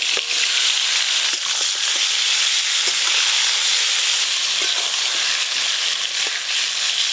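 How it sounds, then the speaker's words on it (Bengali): Small eggplants frying in hot oil, a loud, steady sizzling hiss close by, broken by frequent sharp crackles and spits. "দুটো রেসিপির জন্যই প্রথমে বেগুনগুলো ভালো করে ভেজে নেব।"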